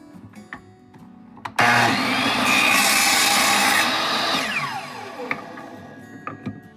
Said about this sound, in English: We'll cut that on the saw.